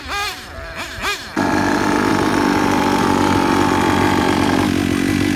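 A small RC buggy engine revving hard in a drag run against a 50cc Goped scooter, a loud continuous high buzzing drone after a few short blips at the start.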